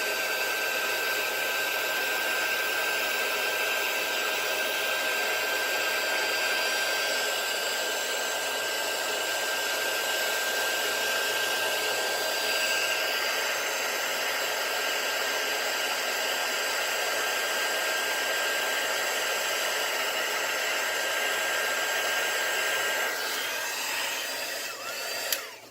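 Heat embossing gun blowing hot air across a handmade card to melt and raise embossing powder, a steady close whooshing hum that runs unbroken, tapering slightly at the end with a small click.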